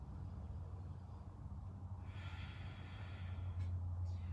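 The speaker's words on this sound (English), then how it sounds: "Last breath." Deep closing breath in a yoga flow: a quiet breathy exhale rising midway, followed by a faint sniff, set over a low steady hum with no talking.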